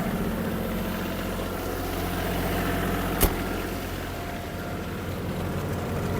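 A Kubota GL-29 mini tractor engine running in fourth gear at raised revs, a steady loud drone with a single brief sharp click partway through, no voices.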